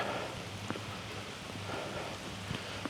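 Light rain falls steadily in a soft, even hiss, with a few scattered drops tapping nearby.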